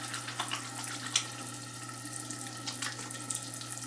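Tap water runs steadily into a bathroom sink during face washing, a continuous close hiss with a low hum beneath and a few small splashes and clinks.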